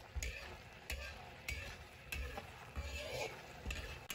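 Hand-torn cabbage tossed over high heat in a wok, a soft sizzle punctuated by regular clanking spatula strokes against the metal, about once every half second, close but fairly quiet.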